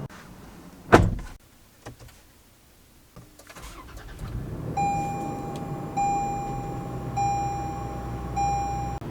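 Door of a 2023 Toyota 4Runner TRD Off-Road Premium opening with a sharp thunk as someone climbs in, followed by rustling and then a steady repeating chime tone inside the cabin.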